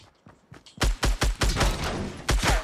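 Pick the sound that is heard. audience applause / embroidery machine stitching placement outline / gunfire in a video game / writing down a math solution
gunfire in a video game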